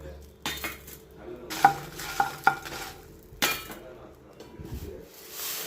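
Lentils and asafoetida dry-roasted in a pan for idli milagai podi, stirred with a metal spoon that scrapes and clinks in scattered bursts over a faint sizzle.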